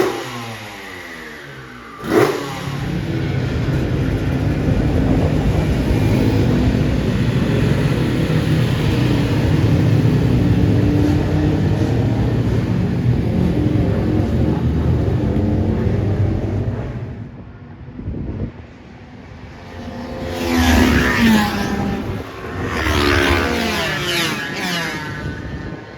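A two-stroke racing motorcycle engine revs loudly and steadily in a race garage at Donington Park, drops away briefly, then blips back up in sharp revs near the end.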